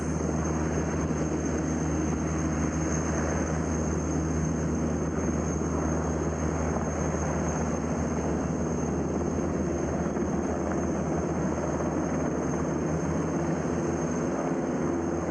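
Loud, continuous helicopter rotor and engine roar, close and unbroken throughout, with a steady high whine on top.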